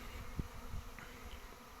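A honey bee swarm hums at a hive with a soft, steady buzz that continues throughout. A couple of dull low thumps come through nearby.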